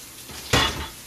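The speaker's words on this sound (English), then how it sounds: "first he's gonna throw the dishes away" Dishes clatter in a single brief burst of clinking crockery and cutlery as they are tossed away, close by in a quiet indoor room with no talk.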